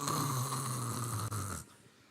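A voice imitates a snore with one long, loud, rasping drawn-in snore lasting over a second, then cutting off to near silence.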